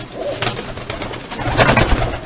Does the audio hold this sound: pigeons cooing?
yes